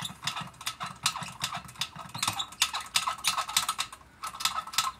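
Hydraulic aircraft jack pumped by hand: a fast, steady series of sharp metallic clicks and ratchet strokes, loud and close, continuing without pause and with no talking.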